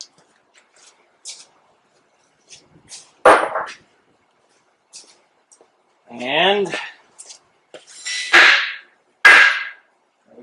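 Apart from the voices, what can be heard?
hammering lugs off a John Deere 820 tractor wheel hub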